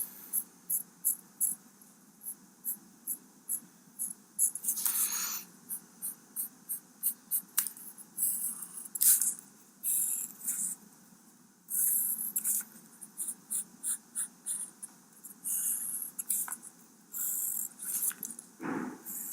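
Pencil sketching in a dotted notebook, heard as close, dry scratchy strokes in quick repeated bursts with short pauses between them, continuing steadily and alone.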